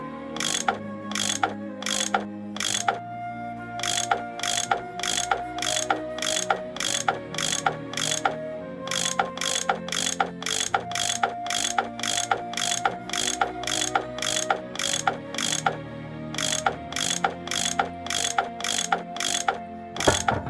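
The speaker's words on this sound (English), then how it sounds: "I bet that's what you use to unscrew these bolts" In the Nancy Drew game Last Train to Blue Moon Canyon, a tool unscrews bolts with rapid repeated ratcheting clicks that come in steady bursts, separated by brief mechanical pauses, with a faint tonal background underneath.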